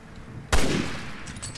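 A single loud gunshot cracks out in Resident Evil Revelations 2 after a quiet moment, followed by a short fading echo and faint background game noise.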